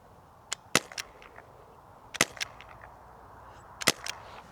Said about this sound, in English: click this to shoot and take my first shot with this gun